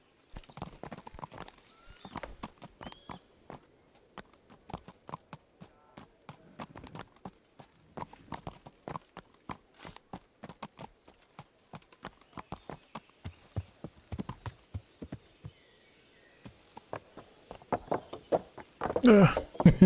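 Horse hooves clip-clop steadily in the medieval role-playing game Kingdom Come: Deliverance, close and rhythmic throughout, with a horse whinnying near the end and someone talking over parts of it.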